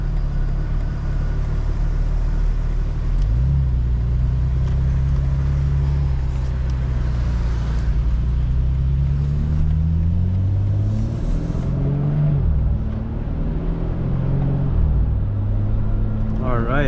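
A 2025 BMW M4 Competition drones along from inside the cabin, its engine rising and falling through several gear changes with audible pitch sweeps between shifts, steady road rumble underneath.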